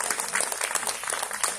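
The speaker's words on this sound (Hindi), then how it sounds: "जोरदार तालियों के साथ स्वागत करें" An audience at a stage event applauds a guest, a brief dense burst of clapping heard up close and unbroken.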